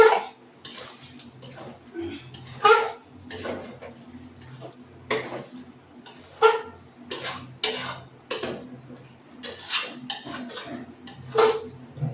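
A wok of chicken being handled and lifted off the stove, with sharp metallic clinks and clatters at irregular intervals over a faint low hum, close by, while a voice talks quietly in places.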